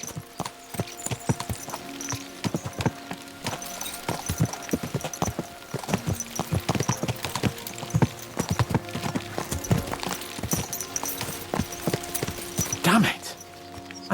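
Repeated hoof clip-clops from horses galloping at pace in the video game Kingdom Come: Deliverance II, with occasional whinnies and a game-like background hum beneath.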